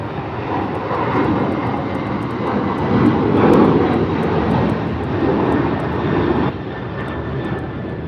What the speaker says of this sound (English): there's a United flight taking off. That's a Boeing 737.